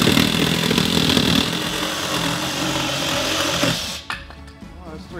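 A Ryobi One Plus 18 volt cordless reciprocating saw with a coarse blade cutting through oak, loud, close buzzing strokes for about four seconds before the cut ends and the motor winds down.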